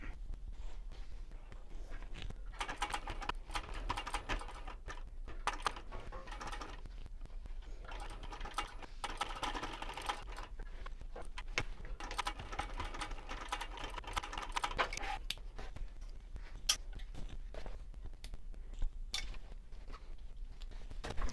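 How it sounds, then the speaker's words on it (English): A sewing machine top-stitches a pocket onto a wristlet lining, running in bursts of quick, quiet stitching with short pauses between passes and small handling noises. "I am going to stitch down one side, across the bottom, and up the other side, and that will sew the pocket on to the lining piece"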